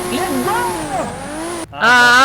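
Video-game cars line up for a drag race: a voice talks over engines whose revving tones swoop up and down, then cut out before a fresh, higher surge of revving.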